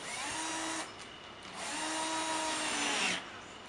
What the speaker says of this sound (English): I can drill into this and I can attach things and I can go off of it.